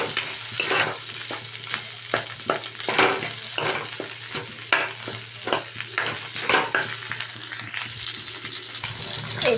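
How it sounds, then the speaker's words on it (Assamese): Boiled potatoes frying in a pan for a fish curry, a steady close sizzle broken by repeated scraping stir strokes, with no talk. "এতিয়া অকণমান ভাজি ল'ম।"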